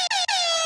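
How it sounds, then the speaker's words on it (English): A single loud, bright air horn blast with stacked harmonic tones, briefly stuttering twice before holding steady to the end. "we have a reggae air horn on the recorder"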